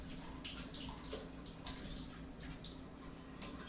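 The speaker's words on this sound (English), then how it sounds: "until the distilled water comes out little by little." Distilled water trickling from a beaker spun by hand while rinsing it for skincare serum compounding: a continuous soft splashing pour, fairly faint, with no one speaking.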